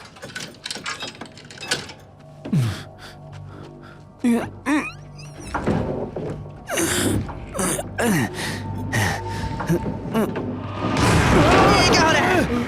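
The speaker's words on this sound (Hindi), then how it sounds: "ये विस्फोट कैसा था?" An explosion bursts from inside a box in a dubbed Chinese martial arts action film, with scattered thuds and tense voices building to a loud, sustained blast near the end.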